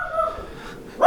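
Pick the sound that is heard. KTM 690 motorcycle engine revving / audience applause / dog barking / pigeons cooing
dog barking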